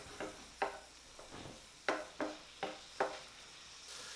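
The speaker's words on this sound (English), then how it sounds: "Let's give these a stir here." Tomatoes simmering in a pan are stirred with a utensil, giving about eight soft, separate scraping strokes in an uneven rhythm over a quiet kitchen background, with no talk.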